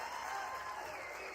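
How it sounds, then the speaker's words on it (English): Crowd at a PBA doubles bowling championship stepladder final, a steady wash of applause and cheering held at one level throughout, with no voices rising above it. "You hear the crowd here."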